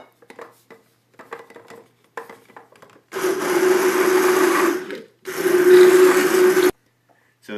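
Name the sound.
blender blending gazpacho puree with red wine vinegar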